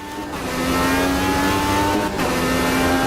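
An IndyCar race car engine in Automobilista 2 drones loudly and steadily, its pitch dropping under braking into a chicane before holding a sustained whine, with no talking.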